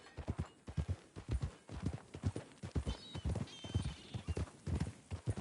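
Horse hooves clip-clop in Red Dead Redemption 2, a steady rhythmic trot of sharp hoof strikes on hard ground, loud and close with no talking.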